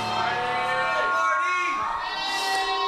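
A wrestling crowd at a Denver RMP Charged event keeps up a steady, loud roar of cheering and shouting, with a voice over the din.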